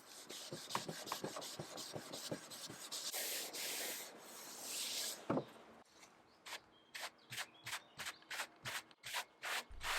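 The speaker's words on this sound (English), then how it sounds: "I use mineral spirit and steel wool to remove the residue from the paint stripper." Steel wool soaked in mineral spirits scrubs paint stripper residue off a 1936 Art Deco drinks cabinet, starting with continuous rubbing and ending in a run of short, rhythmic scrubbing strokes, close and clear.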